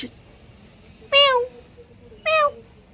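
Two clear cat meows, each about a third of a second long, separated by a pause of roughly a second, over a quiet background.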